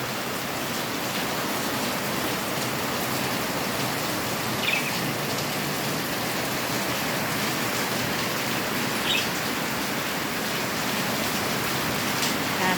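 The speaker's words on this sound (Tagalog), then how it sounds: "Grabe, guys, ang lakas ng ulan" Heavy downpour of rain, a dense steady broadband hiss that stays constant and loud throughout with no speech, only a couple of faint brief ticks above the wash.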